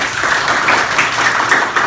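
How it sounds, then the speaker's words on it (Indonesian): Students in a science classroom applaud a classmate, a short dense burst of clapping that is close, steady and fairly loud, with no talking over it. "tepuk tangan"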